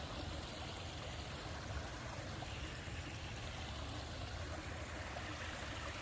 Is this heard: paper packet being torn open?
no